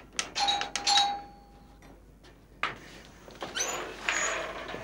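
A doorbell chimes twice in quick succession with a bright tone, followed by quieter clattering and shuffling sounds nearby.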